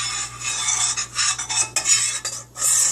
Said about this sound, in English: I put it in the pot and I stir